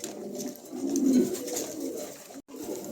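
A pair of German Cooper pigeons, a blue female among them, cooing close by in a bird market, soft low rolling coos sustained over a quiet background.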